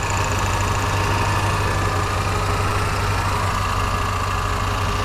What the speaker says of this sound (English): So here's the motor.